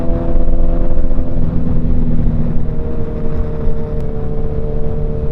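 Suzuki motorcycle on a ride, with a steady, loud engine drone and rumble running throughout alongside road noise, with no clear revving peaks.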